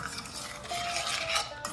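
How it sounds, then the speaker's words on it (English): A utensil stirs caramels melting into milk in a pot, making a continuous close scraping and swishing with light metallic clinks against the pot, steady and moderately loud with no voices. "I'm just gonna cook and stir this"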